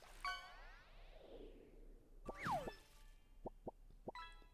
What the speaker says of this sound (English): That's the sound of me closing the game.